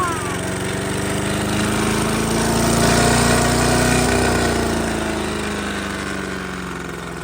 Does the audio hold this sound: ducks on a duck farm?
no